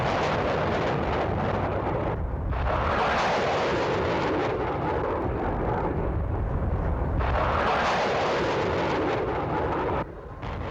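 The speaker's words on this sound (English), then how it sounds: "Rockets being launched from Baghdad airport this morning as units here support the push into the city." Rockets launched from Baghdad airport during the 2003 Iraq war roar in a continuous, loud, broadband rush, swelling in two long waves with a brief dip between, heard alone without voices.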